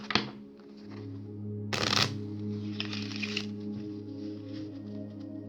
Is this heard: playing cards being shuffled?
yes